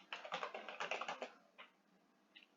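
Fast typing on a computer keyboard, a close burst of rapid clicking keystrokes for over a second, then a few sparse isolated key taps, quiet and alone.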